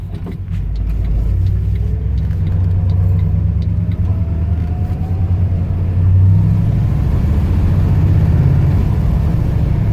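A 1971 Ford F250 pickup with a rebuilt transmission drives along, its engine a steady close low rumble that swells slightly around a gear shift, with no voices over it.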